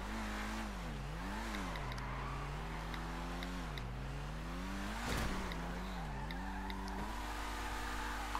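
A car in GTA V accelerates fast, its engine note rising and falling through repeated gear changes, with a brief tire squeal near the middle and a steady loud roar throughout.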